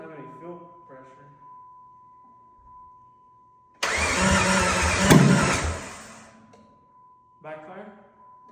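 A new Jeep engine, fitted with headers only and no exhaust, cranks in short bursts, then fires for about two seconds with a loud raw roar and a sharp pop before dying. People talk before and after.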